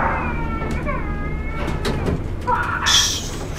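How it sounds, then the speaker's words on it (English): A cat in the horror video game Dark Whispers meows several times, short nasal cries over a dark ambient hum, with a creaking, door-like sound and a brighter, higher yowl near the end. "Ooh, it's a cat."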